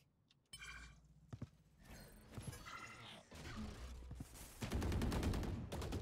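Gunfire in the tactical shooter Valorant during a competitive match, with scattered shots, then rapid bursts of automatic fire growing denser and louder toward the end amid mechanical game effects.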